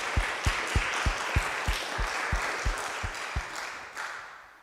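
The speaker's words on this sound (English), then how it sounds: "he deserves a round of applause as well" A live meeting audience applauds in a steady round of clapping, individual claps standing out rhythmically over a dense wash before fading near the end.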